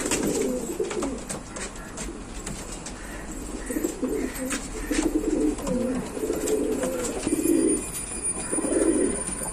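Racing pigeons from a tournament loft, including a three-year-old bird hatched there, coo in low repeated rolling phrases, several overlapping near the listener with steady background noise and no talk.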